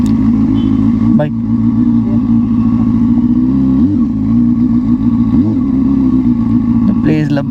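A motorcycle engine rumbles close by as the bike rolls slowly into a parking spot near Little Adam's Peak in Ella, with a steady mid-pitched drone and a couple of brief throttle blips.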